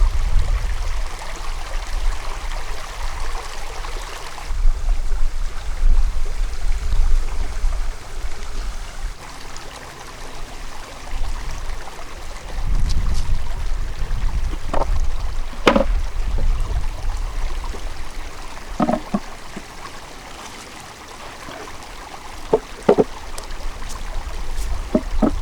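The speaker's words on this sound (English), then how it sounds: "Man, listening to this water is awesome." A stream flows steadily beside a bee yard at Honey Creek, a continuous close water rush with a few brief clicks and knocks on top, no talking.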